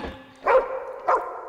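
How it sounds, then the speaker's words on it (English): Dog in the game Nightmares From the Deep barking twice in a mine tunnel, two short clear barks about half a second apart over a faint background hum. "Okay, doggy, you can start barking now"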